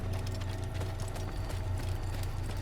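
A horse gallops with a steady, close clip-clop of hooves in the Assassin's Creed video game, running without a break over a constant, busy game soundscape.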